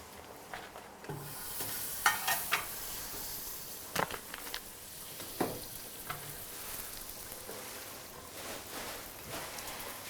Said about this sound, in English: So for the fried rice, I'm using butter.